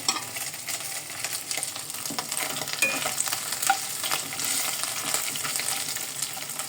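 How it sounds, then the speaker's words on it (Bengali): Small fish fry in hot oil in a pan, a close, crackling sizzle with irregular pops and stirring scrapes that swells and fades gently across the whole stretch, no voices present. "এখন মাছ ভাজছি"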